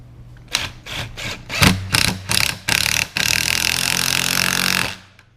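Power driver sinking a fastener into the end grain of a 2x4 with no pilot hole, several short loud bursts of whirring followed by a sustained two-second drive that cuts off abruptly.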